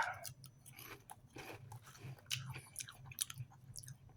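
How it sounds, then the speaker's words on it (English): Close, quiet chewing of sugar-coated chocolate crackers, with a steady run of small crunches and mouth sounds and no talking. "let's try some of the chocolate crackers."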